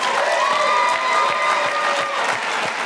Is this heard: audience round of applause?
yes